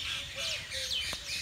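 Green parrots calling from a tree on a residential street, several shrill, rising chirps and squawks in quick succession over faint background noise.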